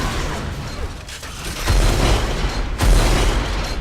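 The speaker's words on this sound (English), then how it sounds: "Nicely pre-fired rockets there." Rockets fired in the Assault game, a few deep booming launches and blasts thudding out over a constant mechanical rumble, loud and close, with two heavier impacts.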